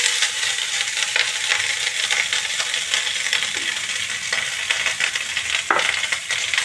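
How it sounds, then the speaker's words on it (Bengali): Cooked rice fries in heated oil in a pan, giving a steady, loud sizzle with scraping stirs and small clinks throughout and no talking. "ভাতটা তো লাল লাল হয়ে ভাজা হবে।"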